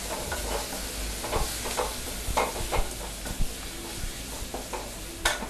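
Steady sizzling from a hot pan of sautéing ingredients browning on a low flame, with scraping and stirring strokes at an uneven rhythm, close up and without talk.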